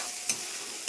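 Chana dal curry sautéing in oil in a pan, a brief steady sizzle with two quick spoon-stirring scrapes close by.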